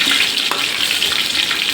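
Dried red chillies and curry leaves crackle and sizzle in hot coconut oil after mustard seeds have popped, part of a soya chunks dry roast; a steady, close, bright frying hiss with no talk.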